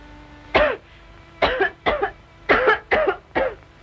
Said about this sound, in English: I cough all the time.